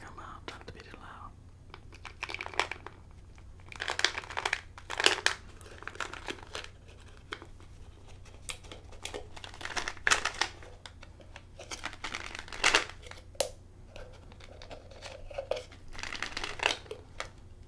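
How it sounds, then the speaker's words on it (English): A stick of chewing gum is unwrapped close to the mic in soft bursts of crinkling and tearing paper, repeating unevenly over a quiet background with occasional whispering. "let me go ahead and get the gum out"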